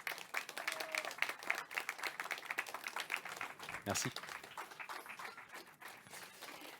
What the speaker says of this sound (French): On peut l'applaudir, c'est magnifique.